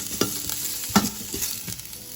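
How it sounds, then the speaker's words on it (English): Ginger slices sautéing in a thin coat of oil in a pot, a close continuous sizzle broken by a few soft scraping knocks from stirring. "Let's saute your ginger slices."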